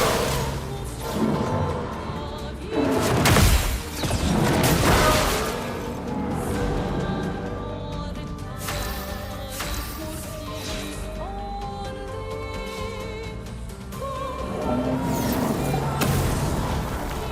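Explosions in Clair Obscur: Expedition 33 boom repeatedly among whooshes and crashes during a serpent battle, dense and loud, with a busy mix of effects and music layered throughout.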